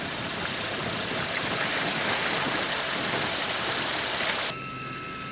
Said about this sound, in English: View of all the waves splashing along the shore.